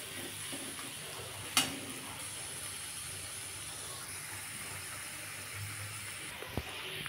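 Boiled potatoes frying in oil as they are stirred, a soft continuous sizzle with a sharp spoon knock early on and another light clatter near the end.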